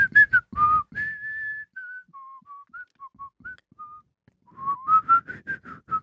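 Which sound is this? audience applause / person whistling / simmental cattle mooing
person whistling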